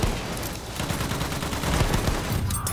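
Dense rapid gunfire from a video game firefight, loud and continuous across the whole stretch with overlapping shots and no pauses.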